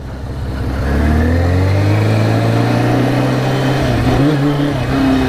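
An engine revs up as throttle is opened on the ride, a loud, steady climbing drone with rising pitch that holds strong for several seconds, with no talk over it.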